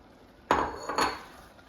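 A spoon knocks twice against a pot while risotto with fava beans and fava bean pesto is stirred in. The two sharp metallic clinks sound close and clear, about half a second apart, with no talking.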